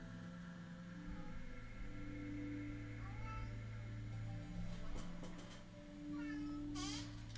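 A pet cat hiding under a bed and meowing, a few faint short meows scattered through the stretch and a brighter cry near the end, quiet over a steady electronic hum.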